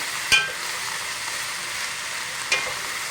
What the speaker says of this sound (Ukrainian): Не забувати помішувати нашу капусту. Капуста трошки присмажилася вже.